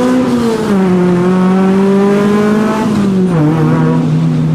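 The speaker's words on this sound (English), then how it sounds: "Every time you get to accelerate in this car" A car engine revs hard and climbs in pitch, loud and close, with a brief dip as it shifts, then pulls again.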